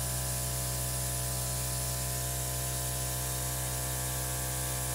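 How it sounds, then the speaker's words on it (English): An airbrush sprays over an acrylic pour painting made with metallic paints, giving a steady, even hiss with a faint underlying hum that runs unbroken and alone. "I'm going to get my airbrush out and I'm just going to like soften a little bit"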